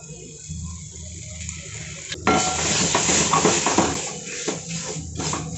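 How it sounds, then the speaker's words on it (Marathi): Spices and ginger-garlic paste sauté in a little oil for a Maharashtrian chickpea (harbhara) curry, with a low simmering hiss building into steady, close sizzling and scraping stirs after a couple of seconds. "आता हे मसाले छान परतून घ्यायचे चांगले"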